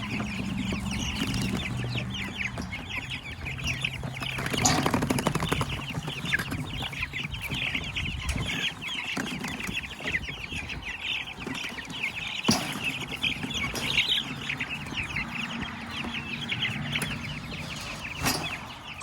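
A flock of pastured meat chickens clucks and murmurs steadily up close while they are being moved. The busy, overlapping calls run throughout, with occasional louder squawks and some rustling.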